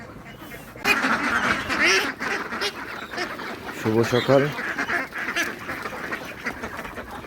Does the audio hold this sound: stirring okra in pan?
no